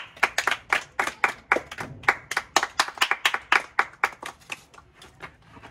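A small audience at a citizen-engagement session on digital education claps in a brisk run of distinct hand claps, fairly close and dry, tapering off after about five seconds.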